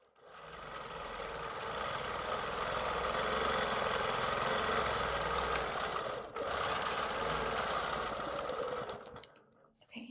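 A free-motion longarm quilting machine stitches through a quilt in a steady, continuous mechanical whir that speeds up and slows down, with one short break and a stop near the end.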